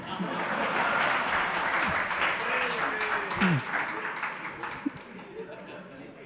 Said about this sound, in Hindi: आप लोग बहुत जोर से तालियां बजा दी